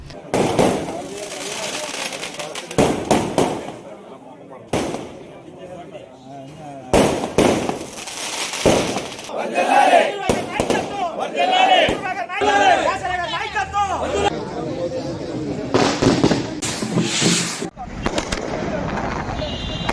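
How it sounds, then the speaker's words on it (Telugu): Firecrackers burst at a political party celebration, with sharp cracks and pops sounding repeatedly over twenty seconds amid a busy outdoor crowd and constant chatter. "ఈ సందర్భంగా పార్టీ శ్రేణులు పెద్ద ఎత్తున బాణసంచా కాల్చి మిఠాయిలు పంచిపెట్టారు"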